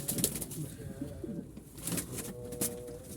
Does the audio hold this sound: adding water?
no